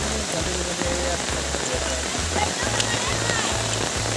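Heavy rain pours steadily during an outdoor shoot, a dense, even hiss of drops on surfaces, close and continuous. A low rhythmic thumping pulses underneath.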